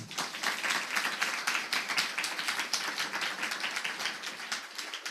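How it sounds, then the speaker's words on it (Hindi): Congregation applauding during a church sermon, dense steady clapping from many hands that fills the room for several seconds with no speech over it. "मैं प्रभु के लिए तालियां नहीं बजाओगे?"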